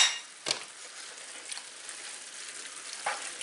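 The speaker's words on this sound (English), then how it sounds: "Mix all this in." A spoon stirs bolognese sauce in a hot pan, producing a steady soft sizzle with a couple of brief scraping clinks near the start and near the end.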